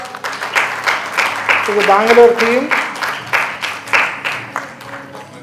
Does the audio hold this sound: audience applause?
yes